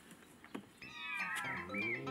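A cat at a swimming pool, having fallen into the water, gives a drawn-out yowling meow after a few soft splashy knocks, fairly close and uninterrupted by talk.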